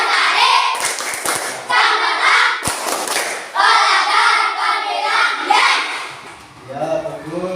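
Children in a classroom clap the Tepuk Jati rhythm chant, sharp bursts of hand claps in a patterned beat mixed with their chanted voices, close and lively.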